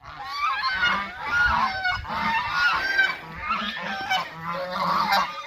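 A flock of geese honks continuously and loudly, overlapping calls rising and falling close by with no pauses and no talking.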